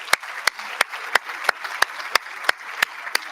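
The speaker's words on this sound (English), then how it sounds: "Let's give them all another round of applause." An audience applauds inductees at a soccer Hall of Fame induction ceremony, with a steady wash of clapping broken by sharp, regular individual claps close by.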